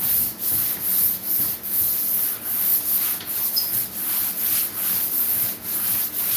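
Sanding a painted wall on a house-painting job, a steady rough abrasive rasp with regular rhythmic strokes, close and continuous, with no talking.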